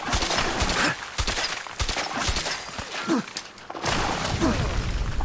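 Shotgun blasts go off in Fallout 4 gameplay, several loud booming shots spaced irregularly amid busy game effects and background noise.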